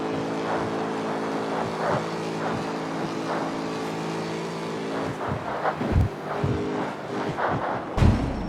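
Cars speeding in a racing video game, a steady engine whine holding under intermittent thumps and bumps of traffic, loud and continuous throughout.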